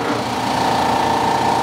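A vacuum sealer machine pulls air from a bag holding a leg of lamb, giving a steady, continuous motor hum that stays loud and even throughout with no talking.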